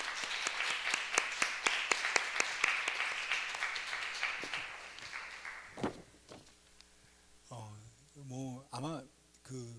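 A church congregation claps together at a Sunday service, a dense burst of applause lasting about five seconds that thins out and fades. A voice follows once the clapping ends.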